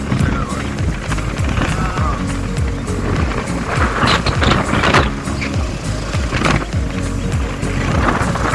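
An auto rickshaw rides along a village road toward the Ghattaragi Bhagyavanti Devi temple, its engine and rattling body giving a steady, close rumble with bumps and road noise throughout.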